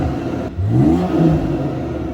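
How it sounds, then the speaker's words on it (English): A BMW B58 engine revs through its air intake, a loud, close surge of rising and falling mechanical roar with a brief dip before climbing again, no voices over it. "I think it makes sense for you guys to hear this air intake."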